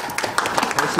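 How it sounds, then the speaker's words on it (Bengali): Audience applause at an outdoor Udichi rally in New York: a dense, steady patter of many hands clapping together, close and fairly loud for the whole moment. "সবাইকে আমাদের অভিনন্দন একটু জোরে করতালি"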